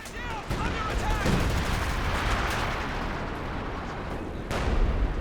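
Artillery shelling and machine gun fire in the World War II strategy game Company of Heroes 2, a dense rumbling barrage of booms and rattling bursts, loud and continuous, with a heavy blast near the end.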